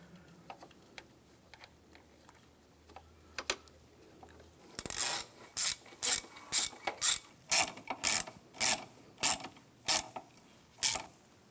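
Socket ratchet tightening nuts on the secondary air valve of a 2009-2013 BMW 328i xDrive 3.0L inline-six, about ten loud, evenly spaced clicking bursts after a few faint ticks, close up with no talking.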